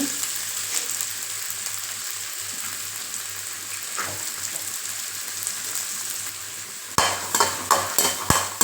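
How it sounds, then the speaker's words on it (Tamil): Sliced okra and turkey berries cook slowly in a pan over a low gas flame, giving a steady soft sizzle. A few sharp clinks from stirring come near the end. "இப்போ நம்ம நறுக்கி வச்ச வெண்டை சுண்டைக்காவை போட்டுக்கலாம் கேஸ் வந்து ஸ்லோவில் தாங்க இருக்கணும்"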